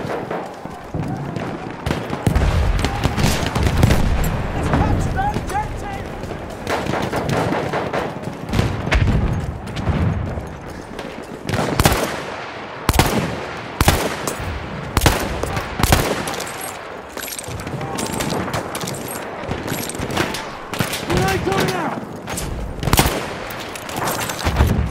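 Machine gun fire in Battlefield 1 Conquest rattles in repeated loud bursts amid scattered explosions and battlefield din, with voices talking at times over the fighting.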